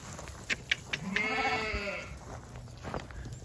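Sheep bleat several times while being herded onto a livestock trailer, with harmonic cries around the middle of the clip and a few sharp knocks and shuffles nearby.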